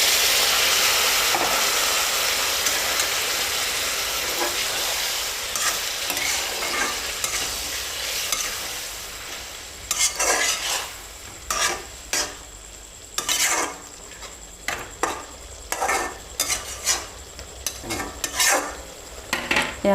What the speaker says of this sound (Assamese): এতিয়া মই গৰম পানীখিনি ঢালি দিম।